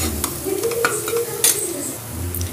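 A spoon stirs pav bhaji with pav bhaji masala and roasted cumin in a hot pan, giving scraping clinks and soft sizzling in irregular strokes, close and moderately loud with no talking.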